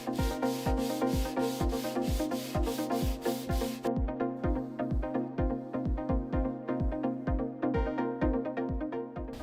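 Wood or case panels of a PC build being sanded to remove saw marks, steady rhythmic back-and-forth rubbing strokes repeating throughout, close and fairly loud with no talking.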